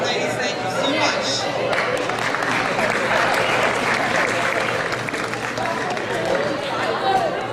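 Sustained applause from an audience at a high school basketball banquet, dense and steady clapping with some chatter underneath.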